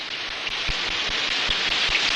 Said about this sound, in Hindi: बाहर बारिश हो रही है, अब मजा आएगा